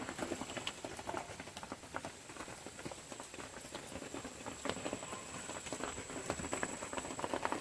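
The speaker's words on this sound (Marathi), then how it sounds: "ती आता पाऊस पडतोय म्हणून बसले आमची जी लाकडं ठेवायची खोप असते त्याच्यात।" Rain patters on a hut built from coconut palm fronds in the Konkan countryside, a close, irregular tapping of drops on the leaves that continues without any voices.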